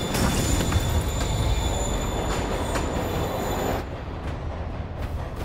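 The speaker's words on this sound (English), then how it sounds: "Train's moving." A moving train in the Marvel's Spider-Man video game rumbles steadily with sustained high wheel squeal throughout, then drops slightly in loudness near the end while continuing to roll.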